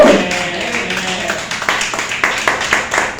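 Church congregation clapping during a sermon, an uneven run of claps building after a brief voice at the start, fairly loud and close.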